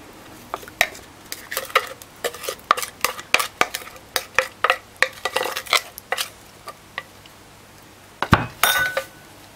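A spoon works banana bread batter into a bowl of flour mix, giving a series of quick scraping, clinking strokes in an irregular rhythm, close and clear, then a short pause and a final louder scrape.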